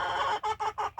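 Chickens cluck in a close, steady run of about five short bursts, one longer call followed by quick evenly spaced clucks, with no voices over them.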